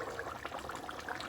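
Beef bhuna gosht simmering in a pot on high heat, a steady close, wet bubbling and gentle liquid burble with no talking.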